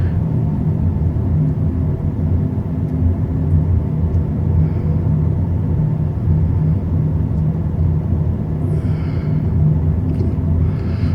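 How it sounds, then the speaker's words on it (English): Steady low tyre roar from a 2024 CUPRA Born electric car driving on the road, a continuous rumble heard from inside the cabin, with no voices. "I'm sure I'll get used to the tyres making more noise than the motor at some point"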